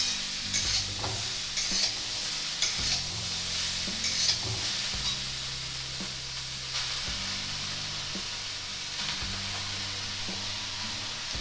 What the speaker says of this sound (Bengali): আর আমরা এই চাঙ্কুচাই বাঁধাকপিটাকে নাড়তে থাকবো।